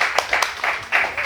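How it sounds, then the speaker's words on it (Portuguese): Brief applause from a small audience at a live talk in a bar, several quick bursts of clapping, moderately loud and close. "Uma salva de palmas, que foi maravilhoso."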